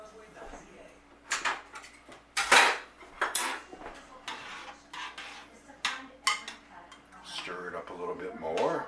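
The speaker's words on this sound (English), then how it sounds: "Stir it up a little bit more." A spoon clanks and scrapes around a metal pot of tomato basil spaghetti sauce, giving irregular clinks and stirring knocks up close, with a few quiet background sounds between strokes.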